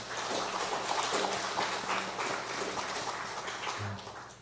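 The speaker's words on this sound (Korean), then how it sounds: "박수로 환영하시겠습니다" A church congregation at a Sunday service breaks into warm welcoming applause, a dense, steady patter of many hands clapping that carries through the whole stretch and tapers slightly at the end.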